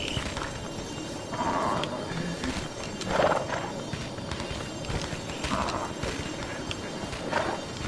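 Horses in the video game Creatures of Ava neigh and whinny over a dense, continuous game backdrop, with several short calls at intervals and faint hoof clatter in the mix.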